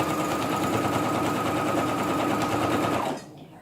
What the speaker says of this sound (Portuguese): eu vou ajeitando bem certinho o tecido e costuro